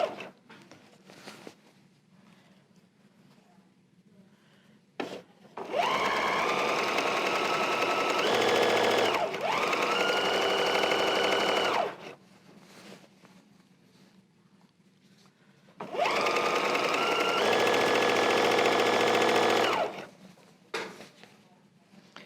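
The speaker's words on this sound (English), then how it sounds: "I'm going to stitch down the long side, keeping your edges even" A sewing machine stitches a long quarter-inch fabric seam on a table runner. It runs in two sustained bursts of about six and four seconds, loud and steady, with quiet handling noises between them and no talk.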